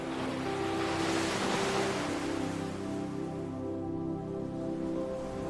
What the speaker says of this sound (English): You hear the sounds of the waves.